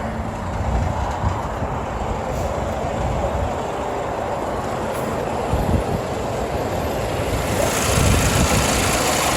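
A 2005 Saab 9-5 Aero four-cylinder engine runs close by with a steady, broadband mechanical rumble and hiss that swells slightly toward the end.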